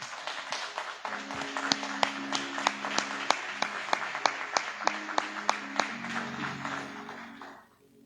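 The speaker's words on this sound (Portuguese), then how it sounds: "Então vamos adorar o nosso Deus com as nossas palmas" A church congregation at a teaching service claps in worship, steady even beats roughly twice a second, moderately distant, over sustained organ or keyboard tones, fading out at the end.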